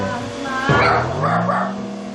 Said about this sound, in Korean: 오늘도 짖는 모습 제대로 보여주는데요.